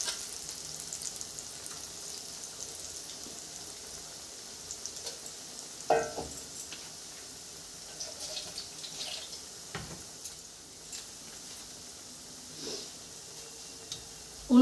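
Cauliflower pakoras frying in oil give a steady, moderate sizzle throughout, broken by a few short knocks and clatters from turning them over.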